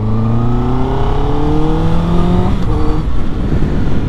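A 2021 Honda CB650R motorcycle accelerating hard through the gears, its engine note climbing in pitch with a gear change near the end, loud and close with no talking.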